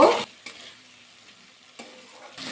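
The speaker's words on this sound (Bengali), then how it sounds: "আলুগুলো দিয়ে কিন্তু প্রথমে একটু নাড়াচাড়া করে নেব" Fried potatoes stirred through spiced masala in a pan for a vegetarian cauliflower dish, with a brief loud scrape and sizzle at the start, then a quieter low sizzle broken by a couple of soft stirring strokes.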